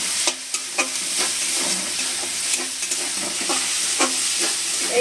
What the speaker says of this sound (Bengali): আর একটু গোলমরিচ গুঁড়ো দিয়ে দিচ্ছি মাছের মধ্যে, দিয়ে আর একটু ভালোভাবে কষে নিচ্ছি